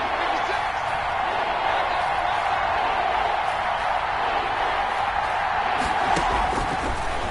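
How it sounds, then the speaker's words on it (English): A stadium crowd roars in a PS4 football video game as a big third down approaches, a steady, even wash of massed voices that holds at one level, with a few faint thumps near the end. "The crowd getting into it as we come up on a big 3rd down"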